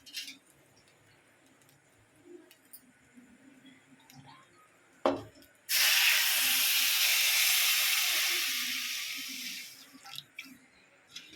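Coconut milk and jaggery halwa mixture heating in a pan, with a quiet lead-in and then a sudden loud, steady steam hiss that lasts several seconds before fading out.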